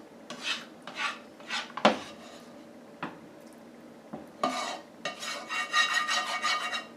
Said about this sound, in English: Scrape all the last bits of deliciousness out of this pan here.